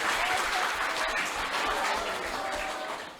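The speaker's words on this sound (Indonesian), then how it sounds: "Kasih tepuk tangan yang meriah." Lively applause from a school audience at a high school event in Gido, steady dense clapping close and loud throughout, tapering slightly at the end.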